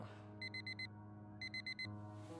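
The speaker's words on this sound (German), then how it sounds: "The same alarm tone that Harry can sleep through." An alarm clock in the game Fragments of Him beeps in two quick bursts of four electronic tones each, shrill and regular, over a low steady background hum.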